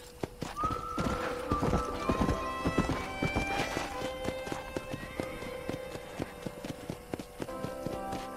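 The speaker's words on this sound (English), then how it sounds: "would you get on a horse?" A horse in Red Dead Redemption gallops with rhythmic clip-clop hoofbeats and lets out a loud whinny early on, close, over game ambience.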